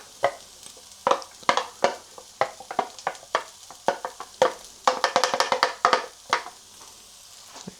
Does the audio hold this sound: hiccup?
no